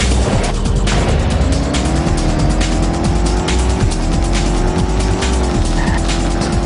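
Futuristic racing pods from the Dreamcast game Pod 2 scream past, giving a loud, continuous high-pitched engine whine that rises and falls over roaring, gritty noise, with no voices.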